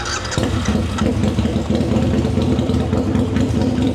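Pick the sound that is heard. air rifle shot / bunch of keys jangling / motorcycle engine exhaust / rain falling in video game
motorcycle engine exhaust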